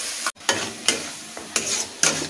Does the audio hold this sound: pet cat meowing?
no